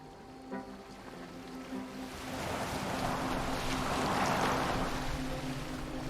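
A boat moving on water in Assassin's Creed Valhalla, with a steady wash of water and wind that grows louder and fuller partway through, while a low tonal hum sits underneath and no one speaks.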